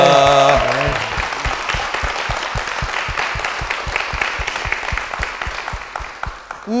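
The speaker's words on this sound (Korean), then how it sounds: "우리 담임 목사님과 교회를 위해서 다시 한번 큰 박수 부탁드리겠습니다." A church congregation applauds warmly, a dense spread of clapping that starts under a closing voice and music, then thins into steadier rhythmic claps fading toward the end.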